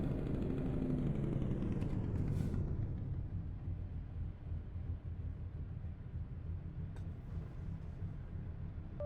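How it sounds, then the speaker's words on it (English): Jake brake on a Peterbilt 359 hauling a heavy load in American Truck Simulator: a loud, continuous low engine roar that fades slightly after the first few seconds and then holds steady to the end, with no talking. "listen to the Jake brake, baby."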